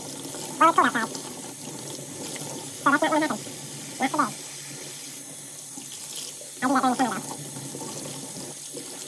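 Hot water runs steadily from a tap into a sink, a continuous close splashing stream. Someone talks over it in several short bursts.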